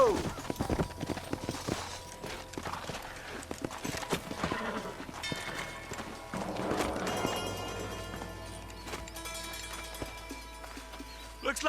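Horse hooves clip-clopping in Red Dead Redemption, a steady run of hoofbeats with an occasional whinny, set against a game soundtrack with music and brief gunfire-like bursts.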